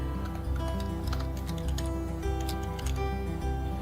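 Typing on a computer keyboard, rapid light key clicks in an uneven rhythm over a steady background hum with tonal music, close and clear with no speech.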